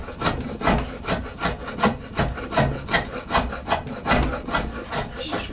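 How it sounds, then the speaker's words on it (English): A draw knife peels thin layers of wood from a selfbow stave in repeated, evenly spaced scraping strokes, each a close, rough rasping pull, with no talking. "bring my draw knife up a little bit, and you can just run right down it"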